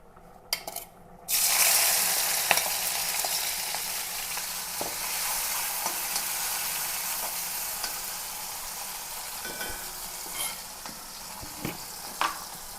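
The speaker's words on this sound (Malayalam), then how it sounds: "ഇതിലേക്ക് ഉള്ളി വെളുത്തുള്ളി പച്ചമുളക് ചതച്ചതാണ് അങ്ങനെ ഇട്ട് കൊടുക്കാം" Crushed onion, garlic and green chili hit hot oil with a loud burst, then settle into a steady, close sizzle with occasional utensil clinks and stirring.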